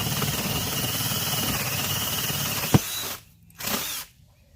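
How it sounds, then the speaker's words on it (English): A power drill fitted with a paddle bit bores into high tunnel greenhouse material, whining steadily at close range for about three seconds before stopping, then giving one more short burst. "we switched to a paddle drill bit"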